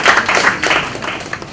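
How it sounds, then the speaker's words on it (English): A round of applause at a formal panel event on curbing vote-buying, steady crowd clapping that stays fairly loud and even for the whole short stretch. "a round of applause for him"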